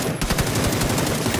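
Rapid automatic gunfire in the video game PUBG, a fast, loud, close burst of shots repeating several times a second.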